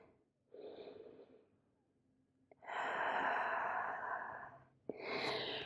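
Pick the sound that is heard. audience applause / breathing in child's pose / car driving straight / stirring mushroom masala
breathing in child's pose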